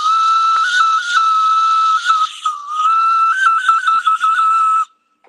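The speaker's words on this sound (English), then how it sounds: "that's the whistle" Reed whistle played in a sustained, shrill tone with a slightly wavering pitch and a brief dip midway, loud and close, then stopping abruptly.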